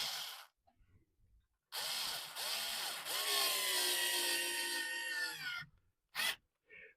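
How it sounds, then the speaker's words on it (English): A power drill drives a screw into the wooden baseboard of a model railway layout, a close whirring burst of several seconds that rises in pitch as it runs, framed by brief quiet and small handling knocks. "So what I'm now going to do is put another screw in this."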